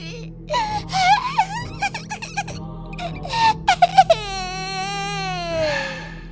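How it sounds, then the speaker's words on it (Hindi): A small child cries as an eerie horror-story effect, with thin wavering wails, a few sharp squeaky sobs in the middle and a long drawn-out tonal wail near the end, loud and alone. "एक छोटे से बच्चे की रोने की आवाज आने लगती है"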